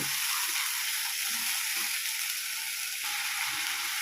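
Spice paste with turmeric sizzles and fries in oil for a Bengali tel koi fish curry, a continuous close hiss with faint stirring scrapes, no voices.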